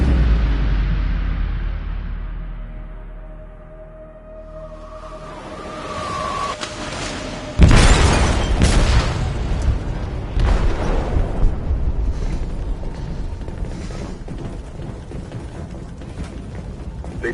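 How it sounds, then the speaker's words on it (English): An explosive goes off in a ship's hold: a rumble fades toward quiet, then a sudden heavy boom bursts in, followed by a long, loud rolling roar of blast and debris. "They detonated an explosive in the hold."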